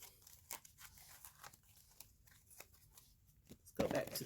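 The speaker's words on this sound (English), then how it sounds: "while I'm shuffling these cards" Soft, quiet riffling and flicking of playing cards being shuffled, with light papery snaps spread through the clip and a louder burst near the end.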